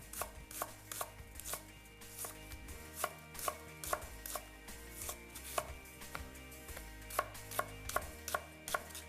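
Two onions being cut on a board, first halved and then diced into cubes, with a steady run of sharp knife strikes that sometimes come in quick bursts, close by, with kitchen music in the background and no talking.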